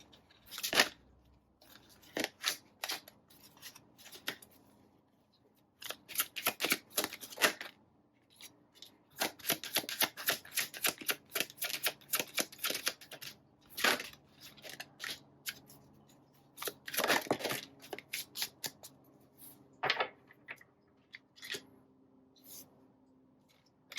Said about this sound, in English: I'm just gonna pull the cards out and then I'll put them where they go.